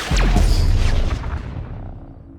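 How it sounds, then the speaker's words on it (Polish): A sudden heavy explosion in GTA Online booms with a deep rumbling blast and a rising whistle, then fades away into a dull roar. "To będzie mocny wybuch."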